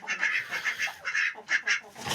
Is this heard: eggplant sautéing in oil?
no